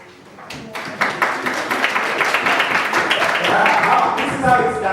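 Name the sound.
audience applause for a presenter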